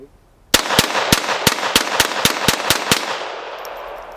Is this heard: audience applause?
no